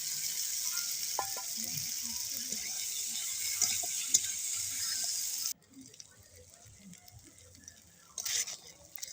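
Potatoes and peas sautéing in a pan give a faint, steady sizzle with light scraping and clicks from stirring; the frying hiss cuts off partway through, leaving quiet clatter and a brief return of sizzling.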